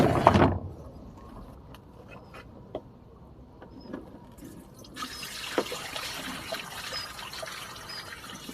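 Excess water poured out of a potted plant, a soft trickle and patter of running liquid with a few drips, quiet and close, with no one talking.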